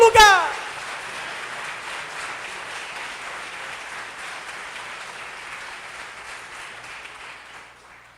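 A church congregation breaks into sustained applause during a service, a dense even wash of many hands clapping that slowly fades, with a brief voice heard at the very start.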